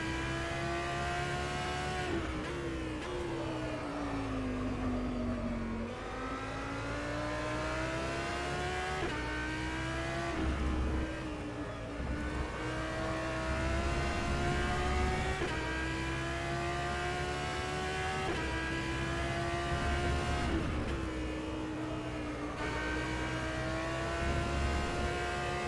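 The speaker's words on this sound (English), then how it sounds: "you see the car just sliding down Eau Rouge in 4th gear" An Audi R8 LMS GT3 race car engine at Spa-Francorchamps through Eau Rouge in rFactor 2, droning steadily at high revs with repeated gear shifts and rising pitch sweeps, loud and continuous with no talking.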